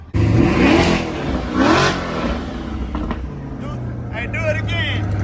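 The engine of a 2012 Chevrolet Corvette convertible, with an LS-type V8 in a garage setting, revs loudly twice in quick bursts and then settles to a rough idle, with voices talking over it.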